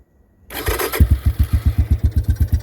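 A Honda Big Red cold-starts without choke: a brief cranking rasp, then the engine catches into a loud, close, rapidly pulsing idle with an even, chugging rhythm.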